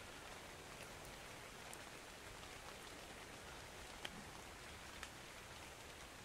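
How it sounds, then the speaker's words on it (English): Rain falling in the video game Ark Survival Evolved, a steady, faint hiss of rainfall with a couple of soft drop ticks, heard alone without talk. "Oh, sweet rain."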